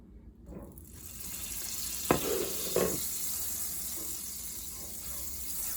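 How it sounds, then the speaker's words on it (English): Butter melts in a skillet with a low, steady sizzle, broken by two sharp clinks or knocks in the middle. "First thing we're going to do is melt the butter in the skillet."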